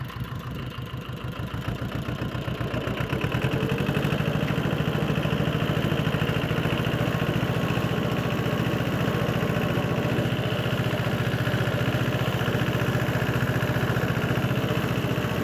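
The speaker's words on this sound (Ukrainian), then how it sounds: "Це тракторець без передка, без блокіровки, без нічого" A small mini tractor engine, a Jinma JM-180, runs steadily and close by while ploughing alfalfa with a two-bottom plough, a throbbing mid-pitched chug that grows slightly louder early on, with no talk.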